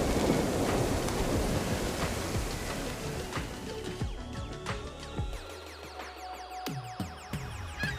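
A thunderstorm with rain rages in the Surviving Wasteland video game, with dense, steady rain hiss and rumbling thunder throughout, plus crackling strikes and drips standing out as the downpour eases slightly toward the end.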